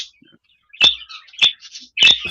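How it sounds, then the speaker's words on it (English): Pet birds give three sharp, bright chirps spaced about half a second apart, close and clear against a quiet room with no talking. "How many birds do you have, Jen?"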